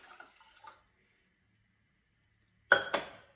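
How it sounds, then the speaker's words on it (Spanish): Six cups of water are poured into a pot for chicken soup: faint clinks and trickles at first, then after a pause a sudden loud splashing pour in two close bursts. "Y aquí tengo 6 tazas de agua. Vamos a agregarlas."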